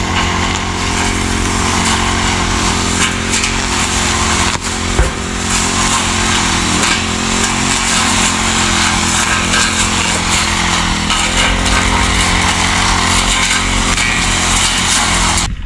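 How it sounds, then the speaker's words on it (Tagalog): A grass cutter runs loud and close in a field, its small engine droning continuously at a steady pitch with little variation throughout. "Si Kaka nag-grass cutter sa sitawan."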